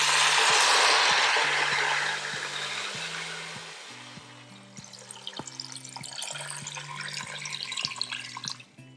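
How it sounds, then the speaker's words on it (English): Chicken stock pours into an Instant Pot over chicken legs for pho, opening as a loud, steady rushing stream that thins into lighter splashing and dribbles, with a faint tonal hum running underneath. "And pour 6 cups of chicken stock."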